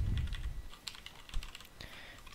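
Typing on a computer keyboard while coding in Node.js, a quick uneven run of close key clicks and taps, some harder presses standing out, with no talk over it.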